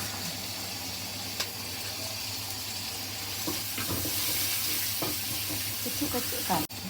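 Fermented dried fish sizzles steadily in a hot frying pan, a constant close crackle of oil, while a spoon stirs it and scrapes now and then with light clinks and taps against the pan.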